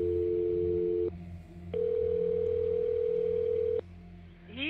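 A telephone dial tone hums steadily, cutting out and resuming several times in long flat stretches, clear and close, with a brief rising electronic sweep at the end.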